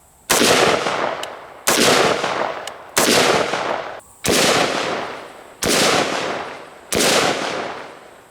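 Six loud rifle shots from a Windham Weaponry AR-15 in 5.56/223 firing Norma Tactical full metal jacket rounds, each a sharp crack with a decaying tail, spaced roughly 1.3 seconds apart in steady rhythm.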